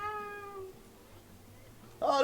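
A single clear cat meow from the video game Tales of Xillia 2, fairly faint, followed by a voice starting to speak at the end.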